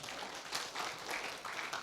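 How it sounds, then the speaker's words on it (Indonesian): A church congregation at an Indonesian online worship service claps together in steady, dense applause, continuous and moderately distant, with no voices over it. "Kasih tepuk tangan buat Tuhan."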